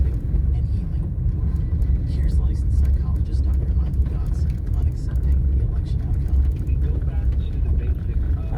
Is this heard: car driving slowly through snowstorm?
yes